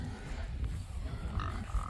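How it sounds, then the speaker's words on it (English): Hungry farm pigs grunt in low, rough bursts at close range, set against cold wind noise on a family farm. "Pigs are hungry."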